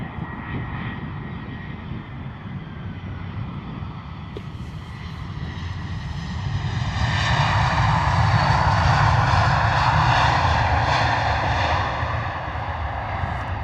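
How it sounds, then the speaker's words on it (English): An EasyJet Airbus A320 jet arrives on a cold day at London Luton Airport, a steady engine roar that swells louder midway as it passes close, then eases slightly, with no talk over it. "Lovely arrival there from the EasyJet coming in from Geneva"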